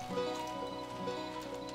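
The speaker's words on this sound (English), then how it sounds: "Oh, it's a donkey." Quiet, steady clip-clop of donkey hooves in the video game Goat Simulator MMO, a soft rhythmic patter sitting beneath a humming, tonal game background.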